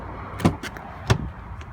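Two sharp mechanical clunks about half a second apart, a 2016 Ford Explorer Platinum's door unlatching and swinging open, over a low steady hum.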